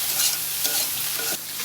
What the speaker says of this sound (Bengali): মাছটা আমি হালকা ভাবে ভেজে নিই